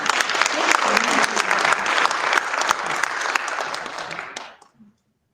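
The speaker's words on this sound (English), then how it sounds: "Let's give another round of applause right now." A crowd applauds loudly and steadily for a few seconds at a bookstore author event before the clapping quickly fades out into near silence.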